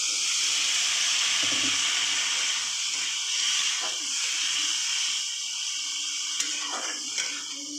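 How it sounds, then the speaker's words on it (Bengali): Water poured into a hot pan of fish for a Bengali fish curry sets off a loud, steady steaming hiss that runs the whole time, with a few faint clinks near the end. "এবার আমি জল দিয়ে দেবো।"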